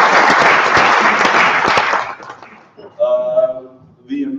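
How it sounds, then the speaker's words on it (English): A conference audience claps and cheers in a loud, dense burst of applause that fades after about two seconds, then a voice begins talking. "I just want a bit of a cheer for all the three regions"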